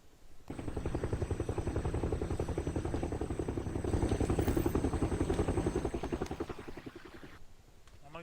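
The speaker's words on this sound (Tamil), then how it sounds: "உனக்கு ஃப்ளைட் சட்டம் கேக்குதோ?" Aircraft engine in the PUBG video game, a steady loud pulsing drone with rapid rhythmic throbbing that holds for most of the stretch before cutting off near the end.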